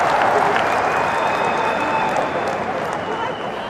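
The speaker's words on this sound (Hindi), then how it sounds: "ठोको ठोको ताली ठोको" Loud crowd applause with some cheering fills a rally hall during a politician's speech, a steady dense clatter of clapping that slowly tapers toward the end.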